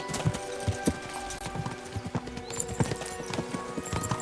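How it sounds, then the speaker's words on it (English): Horses gallop in the medieval game Kingdom Come: Deliverance II, a steady run of hoofbeats with clip-clop rhythm over busy game background sound, loud and near, with a brief whinny in the mix. "We should spur the horses on."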